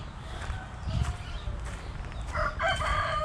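A local rooster in a village set within an American city crows once nearby over a steady outdoor background, with light shuffling footsteps and soft clucking around it.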